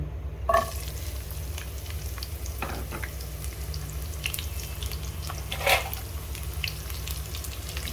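Onion and garlic fry in a pan with a soft, continuous sizzle over a low steady hum, broken by a couple of brief clinks of a utensil against the pan.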